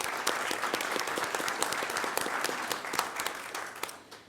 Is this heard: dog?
no